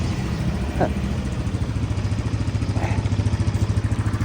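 A motorcycle being ridden, its engine chugging steadily and fairly close with a regular pulsing beat that grows more pronounced toward the end, with brief faint voices.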